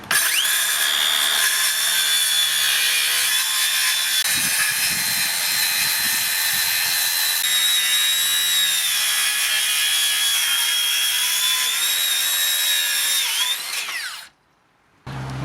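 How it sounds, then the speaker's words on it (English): A Makita 40V cordless 125mm circular saw makes flush cuts in timber, a loud, steady high-pitched whine running almost without break, with brief pitch shifts as the blade bites, then cutting off near the end. "I've tried a few different flush cuts with both of these saws"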